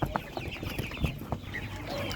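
Chickens at a busy animal market cluck in short scattered bursts over a steady crowd murmur, moderately close and not very loud.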